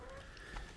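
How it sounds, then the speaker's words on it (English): Chickens cluck softly in a quick burst of short, faint calls, with low background noise and no voices during the brief moment. "I'm just going to sort out these chickens."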